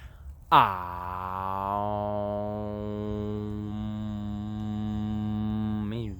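A single deep, sustained human 'om' chant hum drones steadily for several seconds, low and resonant, after a short swoop down in pitch at the start.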